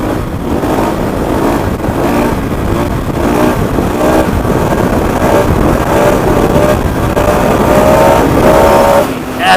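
A KTM 690 motorcycle engine revs hard and steadily during a wheelie out in the Simpson Desert, the loud buzzing drone rising and holding close by for the whole stretch.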